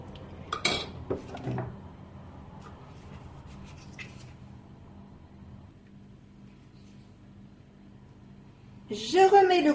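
A utensil scrapes and clinks against the Monsieur Cuisine mixing bowl while cupcake batter with Nutella is cleaned out, with a few sharp metallic knocks early and a louder clatter at the end; a voice talks throughout.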